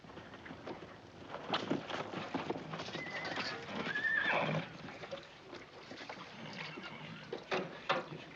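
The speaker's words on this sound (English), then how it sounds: "I need a couple of fresh horses." Horses moving about with hoof clops and a clear whinny midway, set against busy outdoor ambience.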